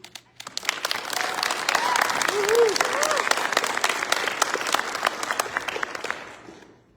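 Graduation ceremony audience applauding a speaker named Vicki, sustained clapping that swells, peaks midway with a few cheers, then tapers off at the end.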